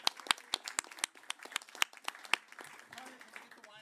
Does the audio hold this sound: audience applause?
yes